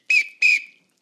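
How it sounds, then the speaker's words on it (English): Two sharp, bright whistle blasts at a children's storytime broom dance, each lasting a fraction of a second with a short gap between, loud and close with silence after. "When I blow the whistle"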